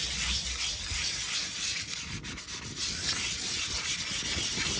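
Gentle hand sanding with 180-grit sandpaper while preparing a surface for painting, a steady soft scratchy rubbing that continues evenly without pause, close up and alone with no voices.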